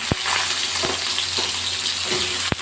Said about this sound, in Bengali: ওই তেলের মধ্যেই আমি পেঁপেগুলো ছেড়ে দিলাম